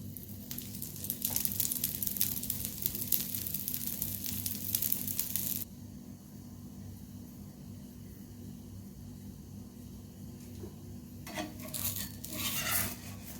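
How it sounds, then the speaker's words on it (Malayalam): Paratha sizzling and frying on a hot griddle with sunflower oil poured over it, a steady close crackle that drops after about six seconds to a softer hiss, then rises again near the end. "കുറച്ച് സൺഫ്ലവർ ഓയിൽ നമുക്ക് ഇതിൻ്റെ മുകളിലൂടെ ഒഴിച്ചു കൊടുക്കാം കേട്ടോ"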